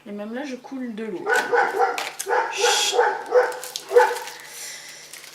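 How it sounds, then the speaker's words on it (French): A neighbours' dog barks and yips through a wide-open window on a hot day: a quick series of sharp, tonal barks and whines, fairly close and loud, with a voice briefly audible as well. "Excusez-moi, c'est le chien des voisins."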